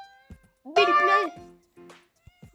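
A cat meows from a bubble in a children's bubble-popping game, one clear drawn-out meow preceded and followed by soft short sounds, close and distinct.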